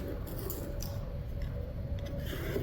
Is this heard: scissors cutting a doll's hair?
yes